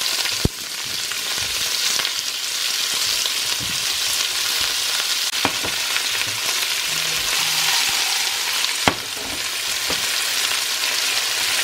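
Vegetables cook in a pan without oil, producing a steady, fairly loud frying hiss broken by a few sharp knocks from the utensil; no one speaks.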